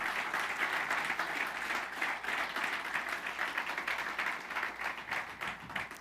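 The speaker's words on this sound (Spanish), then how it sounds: "Dale un aplauso al Señor esta mañana." A church congregation applauds during a Spanish-language service, a dense, steady wash of many hands clapping together, sustained and even throughout with no talk over it.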